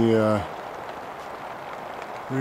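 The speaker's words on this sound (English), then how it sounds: "It's not even raining that bad, but you can see that water's pouring in" Rainwater pours in through a leaking roof during light rain, a steady splashing hiss that fills the middle between short bursts of someone talking at the start and end.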